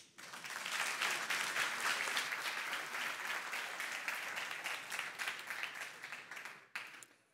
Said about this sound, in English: Let's give her a warm clap of applause.